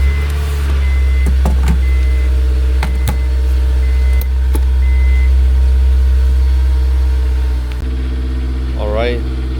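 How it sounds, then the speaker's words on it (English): A Honda S2000 in a home garage runs on a cold start, its engine holding a steady, close, low idle drone with a few sharp clicks. A brief voice rises over the engine near the end. "let's go ahead and give it a nice cold start and pull it off the garage"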